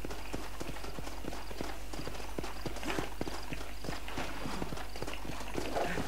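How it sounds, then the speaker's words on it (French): Horse hooves clip-clop in a steady, even rhythm in the Western video game Red Dead Redemption, close and fairly loud over a constant low background hum, with no talking. "On va donc attraper ce cheval."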